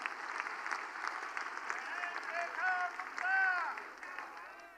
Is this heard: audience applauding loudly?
yes